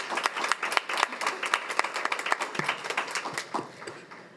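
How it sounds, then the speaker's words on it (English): An audience at a school board of education meeting claps in a loose round of applause, individual hand claps distinct and fairly close, fading toward the end. "Let's give them another round of applause."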